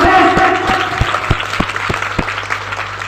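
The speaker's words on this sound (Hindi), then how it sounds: "एक बार आप लोगों के जोरदार तालियों से" Audience at a Hindi self-improvement seminar clapping, starting as broad applause then thinning to sparse, distinct individual claps, with a voice talking over the start.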